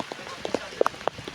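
Rain falls outdoors during a jungle trek, a steady patter with scattered sharper drops landing nearby over a soft wet hiss, while voices murmur faintly underneath.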